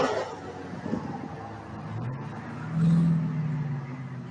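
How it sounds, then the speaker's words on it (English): An Alpha Fab rally car caked in mud, apparently running in rear-wheel drive only, goes by on a muddy Welsh rally stage, its engine rumbling and swelling louder toward the end with faint crowd murmur behind. "So this is the Alpha Fab car."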